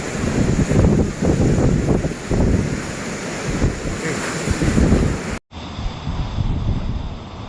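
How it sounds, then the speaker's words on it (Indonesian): Loud, rough wind buffets the microphone while ocean waves crash and surge nearby on a beach in Sulawesi during bad weather, continuous throughout with a brief cut partway. "Begini suasana ombak"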